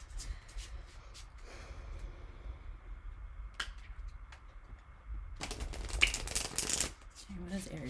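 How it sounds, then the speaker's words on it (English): Tarot cards riffled and shuffled by hand in a quiet room, soft papery flutters and taps with a denser burst of shuffling near the end, a voice speaking over parts of it. "I shouldn't talk while I'm shuffling because I just lost my place in my shuffling process"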